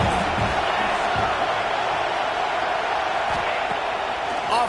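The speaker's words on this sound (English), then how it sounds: "how nice is it to have the home crowd blowing absolutely bananas" Home crowd roaring steadily at an American football game, a loud, dense wall of cheering from a large stadium crowd that holds without a break.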